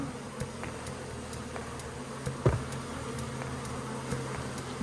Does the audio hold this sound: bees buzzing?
yes